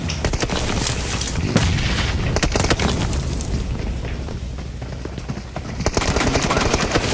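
Rapid gunfire from the mobile battle royale game PUBG Mobile, during a World Cup esports match, runs as loud, dense bursts of automatic fire and booming shots almost without pause.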